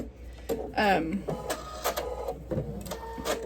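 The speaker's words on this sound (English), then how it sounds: "Just started sewing" A sewing machine stitching table-runner fabric runs in short mechanical bursts, mixed with a voice talking nearby.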